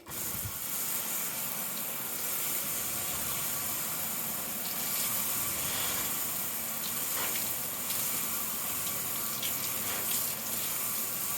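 A pressure washer rinsing cleaner off a car throws out a steady, loud hiss of spraying water that runs unbroken throughout, with slight shifts in texture as the spray angle changes.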